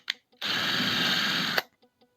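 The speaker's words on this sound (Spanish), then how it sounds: "Cuando hacemos un agujero sin percutor" A power drill with hammer mode switched off spins up close by to bore a hole, giving a steady, loud whir of about a second, framed by faint clicks before and after.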